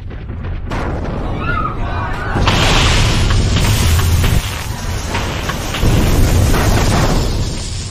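A bomb detonates and collapses a mine in a long, loud, roaring explosion with rumbling debris that swells and surges for several seconds, close and overwhelming.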